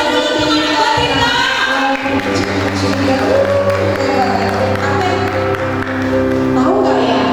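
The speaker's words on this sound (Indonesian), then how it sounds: "Tepuk tangan dulu untuk anak batita." An audience at a Sunday school Easter event claps and cheers for the toddlers. The applause is a steady, dense wash of many hands over sustained music, with voices mixed in.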